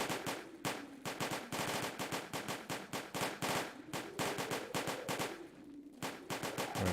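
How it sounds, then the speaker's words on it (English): Napoleonic line infantry in a redoubt fire musket volleys in the strategy game Combat Directive: Napoleonic Wars, a dense, continuous crackle of rapid overlapping shots that rolls on without pause. "So our boys in line here in the redoubt are firing at these disorganized enemy troops."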